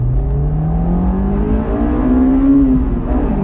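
A Honda S2000 engine revs hard to 9,000 rpm in first gear, a loud, close, continuous climbing whine that rises steadily in pitch before briefly dipping.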